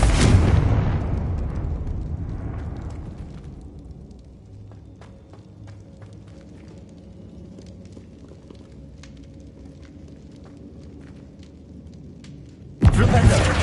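A Confringo fire spell explosion in Hogwarts Legacy on PS5, a loud booming blast that rumbles and fades over several seconds, then a sudden second loud burst near the end.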